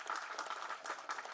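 Audience applause at a Tamil film's audio launch event, a brief burst of clapping from a crowd, fairly faint and distant.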